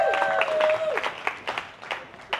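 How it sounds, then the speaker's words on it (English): Applause from a lecture audience greeting a speaker at a diet and lifestyle health event, a steady wash of clapping that thins out toward the end, with a few sharper claps and a faint tone near the start. "Give him a big round of applause"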